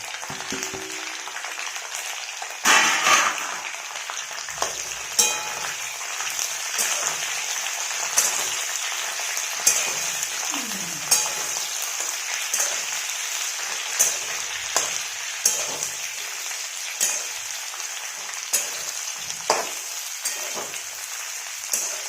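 Finely chopped, lengthwise-cut okra frying in a pan with green chillies and curry leaves, a steady close hiss broken by regular soft clacks of stirring, with no talking.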